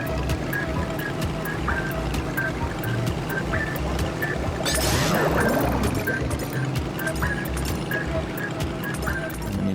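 A sea vehicle surges through water in the Skylanders SuperChargers video game, with a steady rushing wash, small game chimes and blips, and a brief louder splash in the middle.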